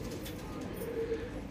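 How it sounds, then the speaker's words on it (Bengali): Old-generation Madrasi pigeons cooing softly in a short, faint burst of low, rolling coos against a quiet background. "এসব পায়রা আছে, দেখে নিন, ওল্ড জেনারেশনের পায়রা"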